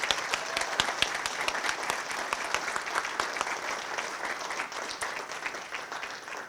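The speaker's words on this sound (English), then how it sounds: "So would you join us in giving a round of applause for our presenters before we even start?" Audience applause for presenters at the Falling Walls Lab Manitoba finale: dense, steady clapping from a sizeable crowd, sustained evenly for several seconds with no voices over it.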